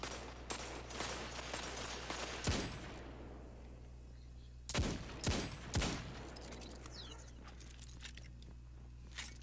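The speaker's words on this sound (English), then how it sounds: "Friggin' shotguns." Shotgun fire in a PvP video game: several loud, sharp blasts spaced a few seconds apart, some in quick pairs, over a steady low hum and faint clatter.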